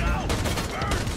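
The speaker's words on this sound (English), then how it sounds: "Wow, that took two shots! This rifle is nice." A fire rifle in a video game lets off a quick cluster of sharp shots, loud and close, over a busy background with some voice.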